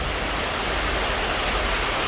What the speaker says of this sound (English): still it's raining again very heavily